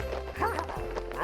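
Horses clip-clop in an animated film, with hoofbeats thudding under a dense bed of music and effects, with a dog-like yelp mixed in.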